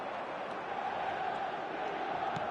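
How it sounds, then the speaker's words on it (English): Stadium crowd in the eFootball 2026 football video game, a steady, dense roar of many voices with a faint cheering edge, continuous and even in level throughout. "The stadium is full of noise and energy."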